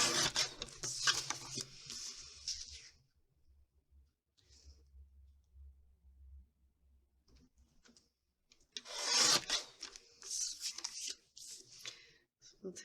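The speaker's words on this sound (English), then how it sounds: "So let's trim our photo down a little bit." A photo being trimmed to size on a paper trimmer: two bursts of scraping, clicking cuts, each a few seconds long, with a quiet low hum between them.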